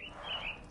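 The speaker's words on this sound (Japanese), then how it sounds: "鳥だ。" A single brief, faint bird call sounds in a Sherlock Holmes video game, a short chirping cry heard alone against a quiet background.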